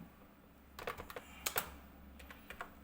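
Keys on a computer keyboard clack in quick irregular bursts while turtle graphics commands are entered, fairly faint and close, with pauses between clusters of taps.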